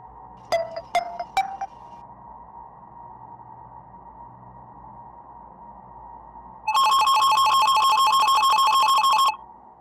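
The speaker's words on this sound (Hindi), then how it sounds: "इंस्पेक्टर दया को फोन लगाओ" A telephone rings with a rapid electronic trill lasting a few seconds, loud and close, after a few short metallic pings over a steady hum.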